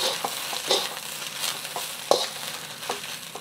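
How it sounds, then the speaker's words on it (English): Singapore noodles being stirred in a pan, with soft scraping and pushing strokes over a low, steady sizzle at close range. "you're just gonna patiently kind of move the noodles around until it's all evenly colored"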